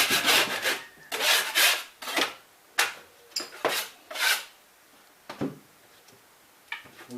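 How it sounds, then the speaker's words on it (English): A scraper grinds along drywall edges around a water heater pedestal repair before fiberglass taping, in loud rasping strokes of uneven length broken by short pauses, close and without speech. "let's go ahead and get this area scraped and fiberglassed"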